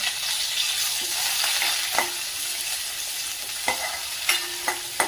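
Curry leaves and other ingredients sauté in a pan for a spinach bhaji, giving a continuous close sizzle with occasional scraping stirs and light taps of the spoon; no voices.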